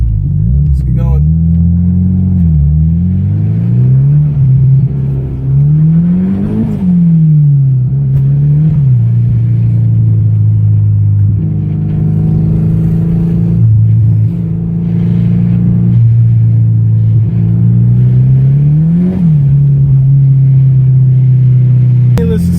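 A built S300SX drives and spins donuts in snow, its engine loud and close, revving up and dropping back again and again in a steady cycle throughout.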